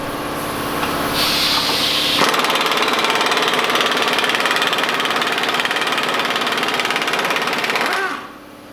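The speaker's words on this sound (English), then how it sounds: "we're gonna go back to our air, when we're gonna take a 24 millimeter and we are going to loosen up the lower ball joint" Air impact wrench with a 24 mm socket loosening the lower ball joint on a Chevy Express van, a loud rapid hammering rattle running steadily for several seconds up close before stopping.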